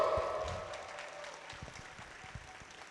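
A crowd at a community event applauds its panel, steady clapping from near and far that fades gradually over the whole stretch.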